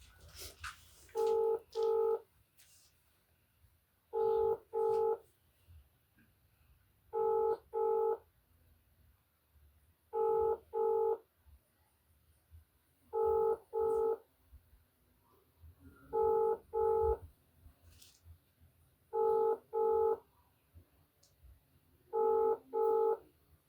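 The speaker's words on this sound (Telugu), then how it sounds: "నెంబర్ చెప్పు ఫోన్ చేద్దాం" A telephone keypad sends dialing tones (DTMF) as a phone number is entered: eight evenly spaced bursts, each a quick pair of clear beeps, over a quiet, faintly noisy background.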